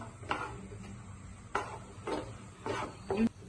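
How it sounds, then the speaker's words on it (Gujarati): Chickpeas with spices stirred in a pan over a medium-to-high gas flame, a low frying hiss broken by a few separate scraping spoon strokes at uneven intervals, close and fairly soft. "આ રીતે હલાવતા રહેવાનું છે મીડિયમ ટુ હાઈ ગેસની ફ્લેમ પર."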